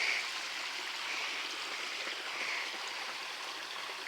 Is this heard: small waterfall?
yes